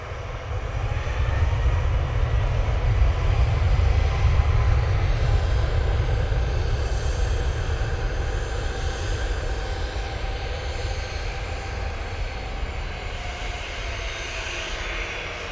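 A TUI Boeing 737 MAX 8 jet at Manchester Airport gives off a heavy, sustained engine rumble, strong in the low end, which swells early on and then slowly fades as the aircraft moves away.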